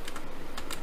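Keys tapped on a computer keyboard while a text prompt is entered, a quick, close, rhythmic run of clicks in a quiet room.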